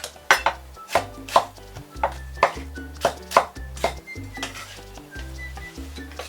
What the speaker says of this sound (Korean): 그리고 감자는 이것도 큼직큼직하게 썰어줍니다.